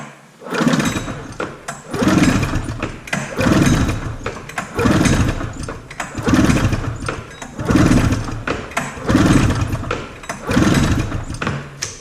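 Snowmobile engine cranked over with the throttle held wide open during a cylinder compression test: seven rhythmic pull-over bursts in steady succession, each a churning mechanical whir, fairly loud and close with no talking.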